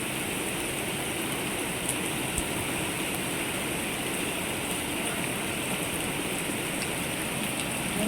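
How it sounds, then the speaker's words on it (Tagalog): Heavy black-rainstorm downpour in Hong Kong, a dense continuous roar of rain pouring onto surfaces, steady and loud throughout with no pauses. "black rain here in Hong Kong malakas pang ulan"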